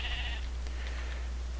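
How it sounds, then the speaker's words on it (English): A sheep bleats once in the video game Minecraft, a clear wavering cry at the start that fades into a low steady background hum. "shears can also be used to shear sheep, because oh look, one spawned out here"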